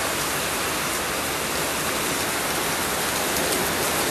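Heavy rain falls in a dense, even wash of noise that stays loud and unbroken throughout, with no voices heard.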